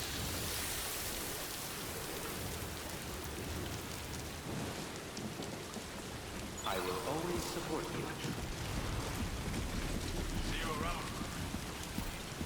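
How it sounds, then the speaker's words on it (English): Heavy Timefall rain hisses down in the game Death Stranding 2: On the Beach, a dense, steady wash with low rumbles beneath and faint chimes partway through. "Oh, how we do like Timefall."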